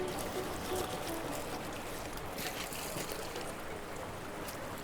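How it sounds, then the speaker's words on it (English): Water poured down the side of a stream sampling net into a large tub as it is rinsed, a steady broadband trickling and splashing that holds at an even level throughout, with no voices. "Now we're going to rinse this into one of our large tubs. So just kind of pour it down along the outside."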